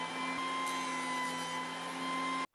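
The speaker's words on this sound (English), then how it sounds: "head back over to the joiner and clean up the joining edges" A jointer cleans up the edges of walnut and maple boards, a steady loud mechanical whine with a constant drone holding for a couple of seconds before cutting off abruptly.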